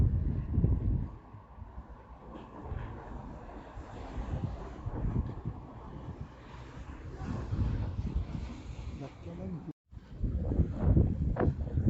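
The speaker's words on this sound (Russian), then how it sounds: "несмотря на то, что вот такой сильный ветер" Strong, cold wind on a rocky seashore buffets the microphone in a steady low roar with gusty swells, cutting out for a moment near the end before rushing back.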